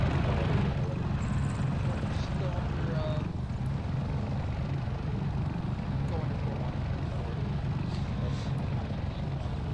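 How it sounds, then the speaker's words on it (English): A helicopter in the video game Arma III produces a continuous loud low rotor and engine roar throughout, steady and close, with faint voices mixed beneath it. "I can't hear you because of the fucking helicopter."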